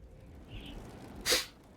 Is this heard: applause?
no